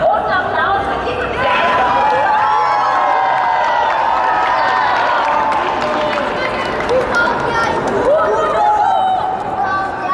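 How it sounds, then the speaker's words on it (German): A large crowd roars with sustained cheering and excited chatter, loud and unbroken throughout, with scattered shouts rising above the din. "Kriegen wir noch mal einen großen Applaus"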